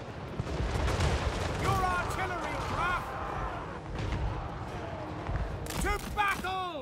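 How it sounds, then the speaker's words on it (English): Gunfire and artillery fire in Total War Warhammer 3, with booming volleys, crackling shots and swooping tones amid busy battle noise, moderately loud and dense, under and between speech. "Keep shooting at them."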